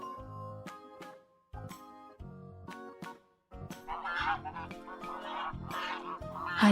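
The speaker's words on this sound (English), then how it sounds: "A duck says, quack," A duck quacks several times in short bursts, fairly loud and close, with no voices over it.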